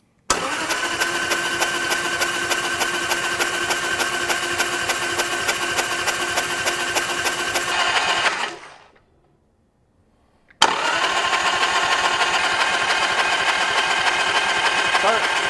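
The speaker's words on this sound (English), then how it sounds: "No spark plugs, I'm just going to crank it over until I get some oil coming out of this feed line." A Harley-Davidson Sportster engine cranks over on the starter with its spark plugs removed, a loud rapid mechanical churning that runs steadily, stops for about two seconds of silence, then resumes just as strongly.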